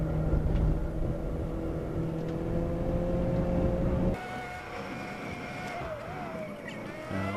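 Nissan Sentra SSS race car engine drones loudly at steady revs, then heel-toe downshifts blip the throttle, sending the revs swooping up and down mid-race.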